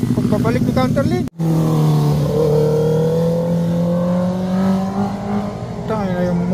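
Sport motorcycle engine revving hard, its pitch climbing and holding over several seconds after a brief cutoff, close and loud, with voices talking at the start and end.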